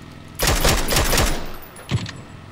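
A quick string of PUBG gunshots, around five sharp close cracks in fast succession, followed by one more shot about a second later.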